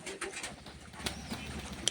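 Pet pigeons in a home loft coo softly near a water tank. The soft coos are brief and quiet, with a faint flutter near the end and no talk.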